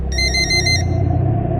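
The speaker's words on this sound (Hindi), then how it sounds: "पुष्कर का फोन बजा" A bright electronic phone ringtone trills loudly for under a second over a low rumbling drone, then cuts off and leaves the steady dark ambience of a horror story scene.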